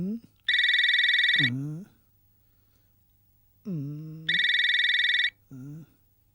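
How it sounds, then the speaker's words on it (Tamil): A telephone rings in a home, with two loud bursts of electronic ringing separated by a quiet pause and shorter tonal sounds around each burst. "போன் பெல்லு எவ்வளவு நேரமா அடிச்சுக்கிட்டு இருக்கு?"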